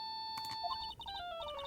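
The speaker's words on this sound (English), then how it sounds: "That's my ringtone." A cell phone ringtone in the Ace Attorney 2 video game: a bright electronic melody of quick, stepping beeps that rings out clearly for under two seconds.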